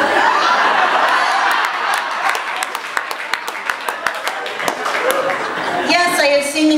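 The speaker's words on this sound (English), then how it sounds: "I know who's clapping." An audience claps and cheers during a live comedy storytelling show, starting as a dense burst of applause and thinning to scattered individual claps, with laughter and talking mixed in.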